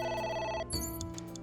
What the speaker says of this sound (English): the phone's going now